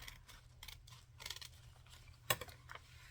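Scissors cut through fragile old paper in a few short, quiet snips, with one sharper, louder crisp cut near the end, close up and otherwise nearly silent.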